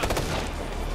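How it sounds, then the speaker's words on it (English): Rocket launcher fire in the video game Ghost Recon Future Soldier, a short loud burst of blasts with rapid booming impacts, close and dense, lasting under a second. "They shoot rocket launchers at me"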